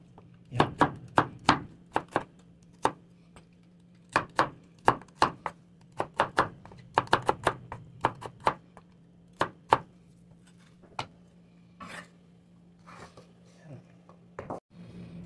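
Onion being minced with a knife on a cutting board for paksiw na banak (mullet fish): irregular bursts of sharp close chops with short pauses, over a steady low hum, no talk.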